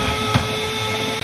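A meat slicer runs for Baltimore pit beef cooked in a fireplace, giving a steady, close motor whir and hum that holds level throughout without any talking.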